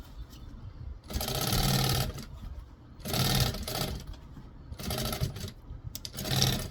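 Sewing machine topstitching the edge of a fabric bag or zip pouch, running in three bursts of steady rapid stitching with short pauses between, close and fairly loud.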